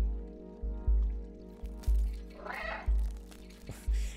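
A cat meows in the video game Stray, a single mid-pitched game meow standing out over a steady electronic music bed with regular low pulsing beats.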